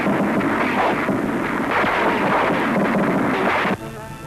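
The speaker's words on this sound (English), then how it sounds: "It took concentrated shelling to crash the walled city on Dufferin Hill." Concentrated artillery shelling during the 1945 assault on the walled city on Mandalay's Dufferin Hill in Burma, heard as a continuous rumbling barrage of heavy booms that drops away abruptly near the end.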